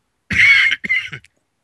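Two close coughs, the first loud and harsh and the second shorter, heard alone with silence around them.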